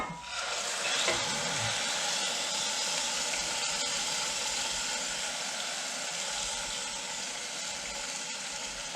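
Garlic sautéing in a pan while making an Italian tomato sauce, sugo all'italiana. A steady, close hiss and sizzle runs throughout at an even level, with no voices.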